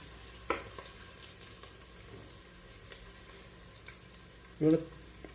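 Garlic, ginger and green chillies fry in a pan with a faint, steady sizzle, broken by two brief louder clatters near the start and end.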